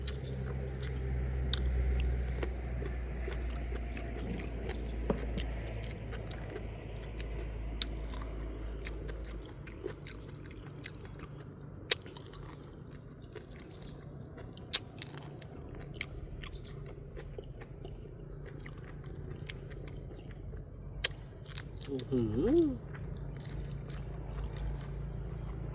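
Crunchy chewing and biting close to the mic on Thai jaew with sweet liver, steady over a low background rumble, with a brief louder bite near the end.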